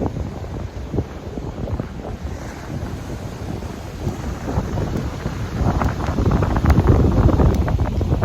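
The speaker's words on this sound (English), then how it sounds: "we're gonna stop for a minute and wait out the rain" Heavy rain and wind roar steadily outdoors, with low rumbles like distant thunder, growing louder toward the end.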